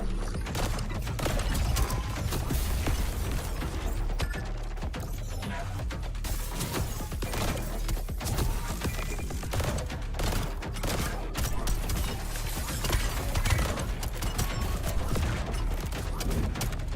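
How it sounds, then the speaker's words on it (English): Dense, continuous weapon fire in the roguelite shooter Void/Breaker, with laser beams and guns blasting in rapid overlapping bursts at a steady loud level for the whole stretch, nothing pausing the barrage. "What are these frickin' laser beams, bro?"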